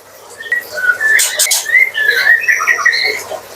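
Caged breeding birds chirp and whistle at feeding time, with bright, repeated tweets and short warbles close by, overlapping in a busy, continuous chatter.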